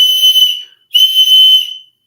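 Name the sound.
person imitating a loud whistle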